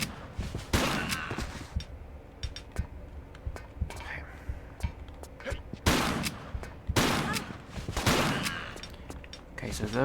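Gunshots in Tomb Raider III's Area 51 level, several sharp bursts spaced across the stretch amid game ambience and clicks, with someone talking quietly in places.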